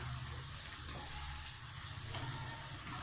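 Battered potato pakoras deep-fry in hot oil, making a steady, dense sizzle with faint scrapes as they are turned over one by one, heard up close and alone.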